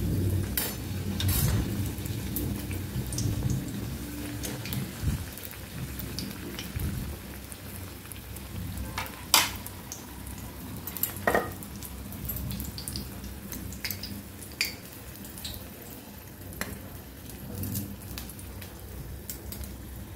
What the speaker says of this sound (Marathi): हे बघा मी आणखी एक तळून दाखवणार आहे